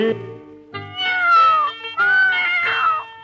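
A cat meows twice in long, wavering cries that slide in pitch, loud and close, preceded by a short lower sound.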